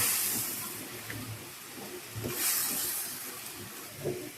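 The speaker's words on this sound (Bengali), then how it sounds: "টাকি মাছগুলো এখন দিয়ে দিব।" Taki fish go into a hot pan of spice paste being cooked down for a bhuna and sizzle with a steady, soft hiss. Faint clinks and stirring rise and fall beneath it.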